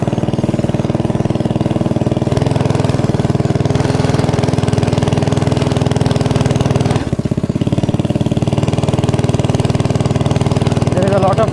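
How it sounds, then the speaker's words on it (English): The petrol engine of a hybrid petrol-electric go-kart runs loud and close at a steady idle, with a constant droning rumble and a brief dip in revs partway through. "There is a lot of noise coming in the petrol mode."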